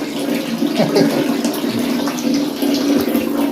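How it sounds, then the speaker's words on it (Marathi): Water runs steadily from a bathroom tap in a house under construction, a loud continuous splashing gush close by, without pause. "त्या नळाला पाणी आलेलं आहे"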